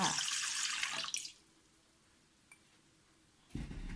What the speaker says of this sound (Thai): เราก็ใช้น้ำเปล่าใส่ลงไปเลยค่ะ